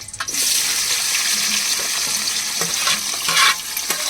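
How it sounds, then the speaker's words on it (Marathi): Onions hit hot oil in a pot for chicken biryani cooked outdoors in a forest, bursting into a loud, close, continuous sizzle with occasional stirring scrapes. "आता तर तेल थोडंसं तापलं आहे आणि आता कांदा आपण टाकतोय त्यामध्ये"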